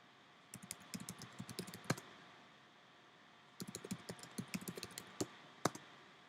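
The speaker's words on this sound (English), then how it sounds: "I have to type it before it falls off the page." Rapid keystrokes on a computer keyboard while playing a French verb typing game, two quick bursts of clicking separated by a short pause, close and fairly quiet.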